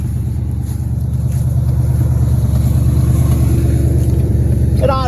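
A cheap beater race car engine idles a little high, a steady, loud low rumble running throughout, with a brief higher whine near the end.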